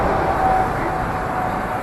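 Steady rumble of a Georgetown Loop Railroad train riding along Clear Creek, a continuous close rolling drone with a faint tonal whine, heard alone without talk.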